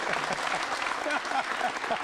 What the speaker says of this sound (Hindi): लीजिए तालियां जोरों से बजाइए सुख साहब के लिए, जोरदार तालियां बजनी चाहिए।